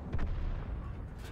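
A UDES 14 Alt 5 tank in World of Tanks lets off a single deep, booming shot with a rumbling tail, loud and close with no talk.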